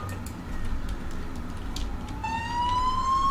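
A wailing emergency siren rises in pitch from the technical truck in the Emergency 4 game with the RSB Lisbon mod, starting partway through over a steady low rumble of traffic and city ambience.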